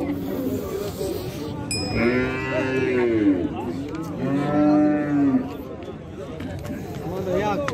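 A cow with a calf moos twice in long, drawn-out calls, close by, at a livestock market in Kolkhozobod, with livestock-yard noise and people talking around it.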